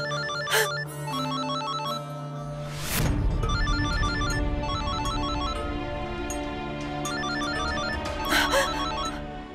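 A mobile phone rings in a Turkish drama, a repeating electronic melody of bright tones that carries on steadily, mixed with a few sharp louder bursts and a swelling rush partway through.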